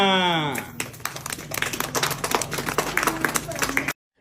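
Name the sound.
audience clapping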